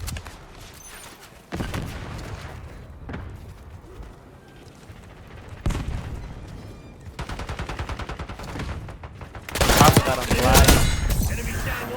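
Bursts of rapid automatic gunfire from a first-person shooter game, including SMG fire, come in separate volleys between quieter stretches, with the loudest and densest firing near the end.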